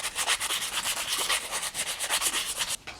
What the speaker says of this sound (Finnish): tasoittelen ne tosta pois ensin Dremelillä ja sitten vähän hiekkapaperia perään